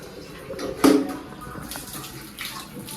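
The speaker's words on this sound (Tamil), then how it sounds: "அதான் நம்ம இது தண்ணி ஊத்தி எடுத்துக்கிறேன்." Water is poured in a hostel room to make Maggi noodles: a short, close splash and trickle that peaks briefly, then fades into a soft continuing dribble.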